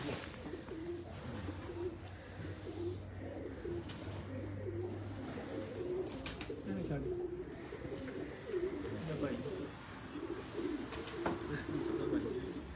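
Soft, repeated cooing of pigeons on a rooftop, several overlapping throaty calls in a rhythmic murmur, fairly faint with faint background noise.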